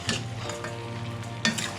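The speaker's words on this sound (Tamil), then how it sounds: "நல்லா மிக்ஸ் பண்ணணும்." Chicken pepper gravy with tomatoes and salt being stirred in a pan, Karaikudi style: a steady soft sizzle with a few scraping stirs and a slightly louder scrape near the end, no talking.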